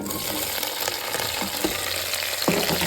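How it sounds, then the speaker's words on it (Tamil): Okra (ladies finger) fries in hot oil with green chilies and fenugreek for a Tamil sambar, a steady close sizzle with occasional stirring scrapes, no talking. "அடுத்ததாக வெண்டைக்காயும் சேர்த்துக்கலாம்"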